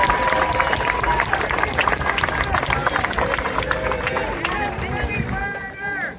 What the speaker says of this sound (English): I want you guys to clap for them right now.